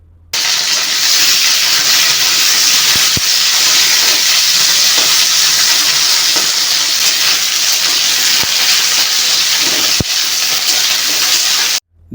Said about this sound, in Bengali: আবারও ওই একই তেলের মধ্যে দিয়ে দিতে হবে ঢ্যাঁড়স